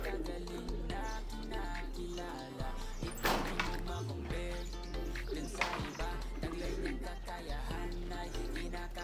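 Racing pigeons coo softly in a loft, repeated low throaty calls and scattered chirps over a steady low hum, with a sharp clatter or wing flap breaking in around the middle and faint voices in the background.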